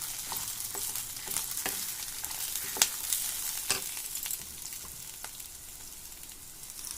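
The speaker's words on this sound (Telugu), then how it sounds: "బాగా ఇట్లా ఫ్రై అవుతున్నాయి." Coriander seeds frying in a pan for an old-style chutney, a soft steady crackle and sizzle with scattered sharp spatula scrapes and taps, close by and without voices.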